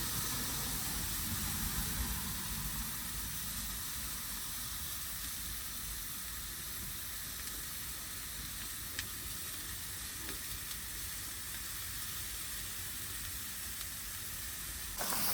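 A burger sears weakly in a cast iron pan over a camping stove outdoors in wind, giving a steady, moderate sizzle mixed with wind noise and a few faint clinks, with no talking.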